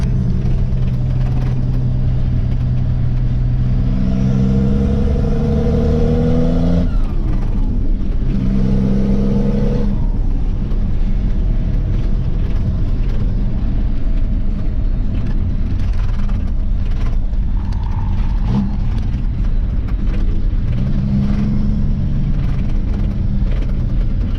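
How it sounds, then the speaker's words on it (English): A Dodge C500 LCF truck performs a burnout, its engine roaring loud and close with two strong rising revs early on and a steady heavy drone as the tires spin. "Amazingly, it starts to spin the tires"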